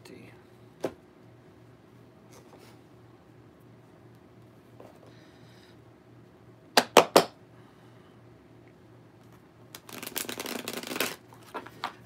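Tarot cards are shuffled close up in a quiet room, with a few crisp riffle bursts and a longer stretch of rapid flicking near the end, plus scattered soft handling clicks.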